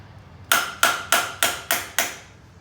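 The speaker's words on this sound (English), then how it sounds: "Hit it with a hammer / ratchet." A hammer strikes a part on a Yamaha Banshee quad while a lockout and quick change cover is fitted: six sharp, close, ringing metallic blows in a steady rhythm, alone with no talk.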